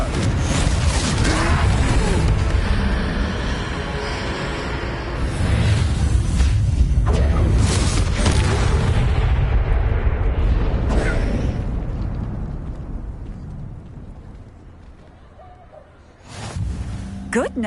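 Confringo spells blast in a troll fight in Hogwarts Legacy: repeated booming, crackling explosions in a dense, loud battle din, with voices mixed in, fading toward the end before a final burst.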